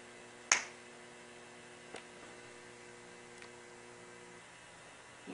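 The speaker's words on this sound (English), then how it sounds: "When I snap my fingers, you're going to wake up and you're going to look at me" A single sharp finger snap, close and crisp, over a low steady mains hum in a quiet room, followed by a couple of faint ticks.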